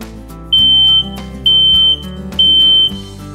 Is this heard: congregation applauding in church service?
no